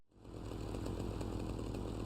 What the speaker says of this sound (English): he has Tommy kill Gonzalez with a chainsaw.